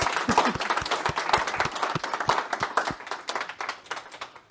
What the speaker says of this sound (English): I would say give in a big hand of applause